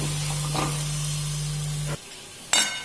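Roti churma mixed into bubbling melted jaggery in a pan, a soft steady sizzle with faint scraping strokes under a low hum, then a brief sharper scrape near the end, close and quiet, no talk.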